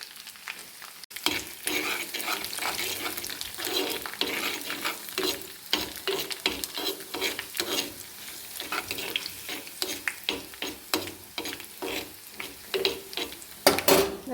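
Sliced onions frying in a pan with dried red chillies for a Kerala salted-mango curry, a busy continuous sizzle with repeated scraping stirs and clinks of a spoon against the pan, close and without talk.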